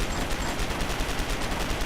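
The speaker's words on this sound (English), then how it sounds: "you want to see me fire the gun" Rapid automatic gunfire from a gun in the video game Starforge, a continuous dense burst of shots at steady volume with no talk.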